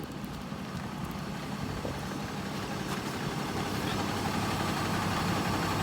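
A pump keeps turning in a secondary cut-out tank drain system, driven by the pressure still left in it. It gives a steady low mechanical rumble with a rough, grainy texture, constant and close throughout, with no talking.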